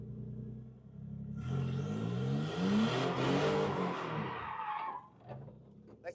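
During a beginner drift attempt, a car engine revs up with rising and falling tones and a rumbling, broad roar that builds, holds for a few seconds, then drops away, heard from inside or near the car.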